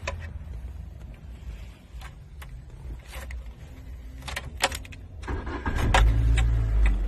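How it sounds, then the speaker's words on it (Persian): An Iranian-made Pride car has its engine started, with clicks and rattles from inside the car, then the engine catches near the end and settles into a louder low rumble, with no talking. "الان به ماشین استارت میزنیم"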